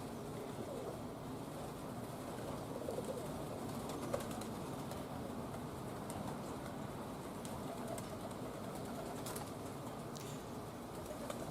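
Roller pigeons in a loft coo softly and steadily, low burbling calls repeating under a constant faint background hiss and occasional rustles, with no talking.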